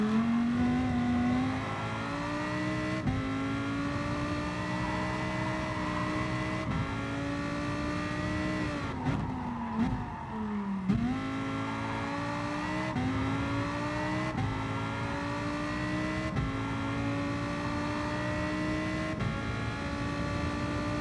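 Lamborghini racing in Gran Turismo Sport, its engine howling continuously up and down through gearshifts, with a brief lift and dip midway before revving hard again; loud and close throughout.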